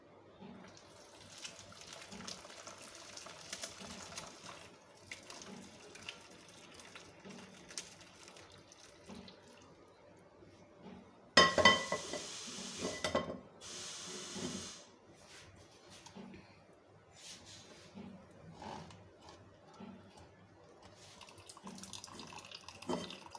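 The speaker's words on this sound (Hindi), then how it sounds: "अब इसके अंदर हमने ये ठंडा पानी ऐड करना है" Cold water is poured over homemade paneer curds, making a brief, louder splashing gush in the middle among quieter trickling and kitchen clatter.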